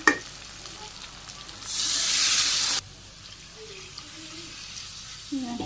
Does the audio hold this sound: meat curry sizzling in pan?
yes